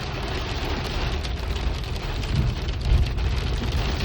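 A continuous hailstorm at Zuluk, Sikkim produces close, dense pattering on the ground and objects, with a few heavier thuds standing out near the end.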